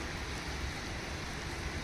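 Steady rain falls on a pleasant, cooling day, a soft, even hiss with no breaks, fairly quiet and heard alone throughout.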